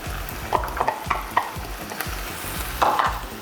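Onion tossed into meat already frying in a pan for tallarines, a continuous sizzle broken by repeated scraping strokes of a spatula and a louder burst of frying near the end.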